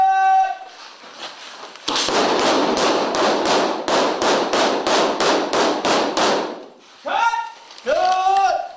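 Rapid prop gunfire rattles on the film set of Boondock Saints II in a steady burst of about a dozen loud, evenly spaced bangs, with shouting voices before and after.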